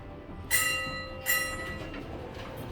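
A 1971 Westinghouse Selectomatic elevator bell at an airport parking garage rings twice, two bright metallic dings about a second apart with a lingering ring, clear and fairly close in a quiet hum.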